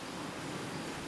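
Surf from the ocean off Bali, with Mount Agung inland, rolls as a low, even hiss of distant waves, soft and continuous throughout.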